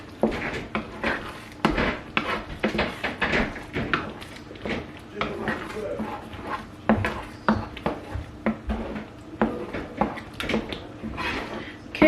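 A spoon scraping and knocking around a pot of spaghetti bolognese sauce on the stove, with repeated clattering strokes and metallic taps close by, steady and busy throughout.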